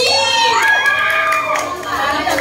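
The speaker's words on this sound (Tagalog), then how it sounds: "Magingay naman ang team ng Gen Z!" An audience at an onsite team recognition event cheers and shouts loudly, with high-pitched whoops and yells sustained throughout.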